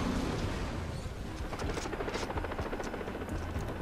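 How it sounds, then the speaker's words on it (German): A helicopter in the video game Far Cry 3 drones steadily and loudly through the whole stretch, a dense continuous rotor rumble with faint rattling bursts that may be distant gunfire. "Ich höre einen Hubschrauber."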